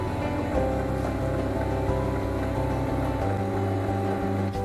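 A gelato machine motor runs with a constant droning hum and rattly overtones, settling into a slightly lower tone partway through after a well-chilled mixture is poured in.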